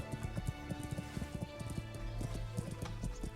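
Horse hooves clip-clop in a steady trotting rhythm in the medieval game Kingdom Come: Deliverance, loud and close, with a low musical drone underneath.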